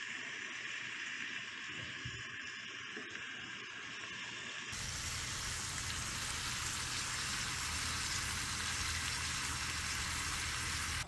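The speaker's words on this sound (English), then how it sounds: "the sound of bacon sizzling on the grill" Bacon sizzles on a camp grill at a campsite in Algonquin Park, a hiss that builds suddenly into a loud, steady, crackling fry and holds to the end.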